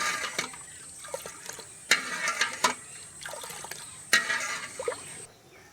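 Milk boils in a pot for homemade paneer while being stirred constantly, a soft liquid bubbling and sloshing broken by several sharp knocks and scrapes of the spoon against the pot.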